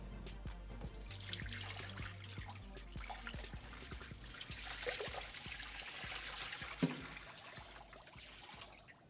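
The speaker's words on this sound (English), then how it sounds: "you must make sure that you pour a gallon of water, or roughly an inch of water, inside the well" Water trickles and pours steadily into the well of an LTI Technologies heater, a continuous close splashing flow with no talking.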